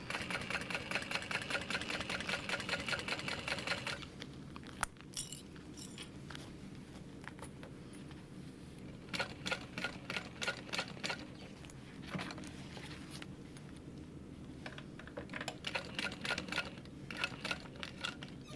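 A sewing machine stitches slowly around the curve of a layered fabric hip bag about a quarter inch from the edge, with steady rapid stitching for the first few seconds, then quieter intermittent bursts with pauses.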